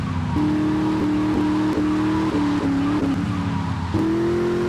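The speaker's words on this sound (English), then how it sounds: "it's not just the engines that sound better, even the subtle details like tyres screeching during hard turns" A loud revving car engine in the video game GTA Vice City, with repeated tyre screeches during hard turns as gears shift, a continuous synthetic roar with no talking.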